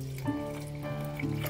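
Water poured from a can into a pan for one-pot tomato pasta, a steady close trickle and splash running through the whole moment, with faint background noise.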